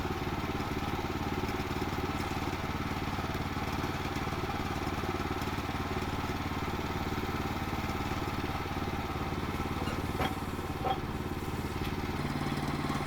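Woodland Mills HM122 sawmill engine running steadily while squaring a log cant from an insect-damaged log, a continuous mid-pitched drone with rattly clatter, close and constant throughout.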